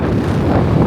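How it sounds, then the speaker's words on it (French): Strong wind buffeting the microphone while cycling on Lanzarote, a loud, continuous roaring rumble that fills the whole moment. "On m'avait prévenu sur le vent, hein."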